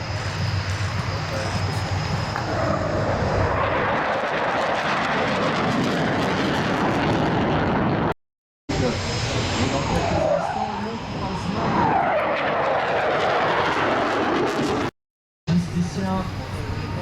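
Aerobatic patrol jets roar past at an air base open day, a loud sustained engine rush that swells and fades as they sweep by, with an announcer speaking over it.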